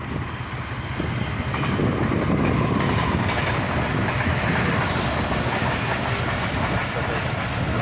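A passing train rumbles steadily along a railway beside a gravel road and a hill, its continuous wheel clatter and hiss holding close and fairly loud throughout.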